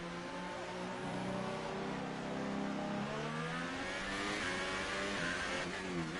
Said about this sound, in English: Ferrari coming through.